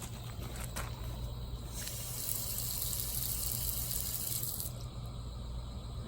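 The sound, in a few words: water sprayed through bus radiator tubes with flat nozzle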